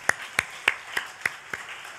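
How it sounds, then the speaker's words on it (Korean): A church congregation claps in a slow, even rhythm, six loud distinct claps roughly a third of a second apart, close and clear with no speech over them. "하나님께 영광의 박수 또 한번 올려드리도록 하겠습니다"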